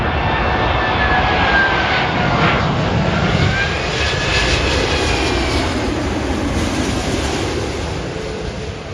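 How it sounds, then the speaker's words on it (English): An Airbus A380 jet airliner arriving from Singapore lands at Heathrow with a loud, continuous broadband engine roar, close and sustained for the whole stretch, slowly fading toward the end. "the Airbus A380. That's a great name. It's coming in from Singapore."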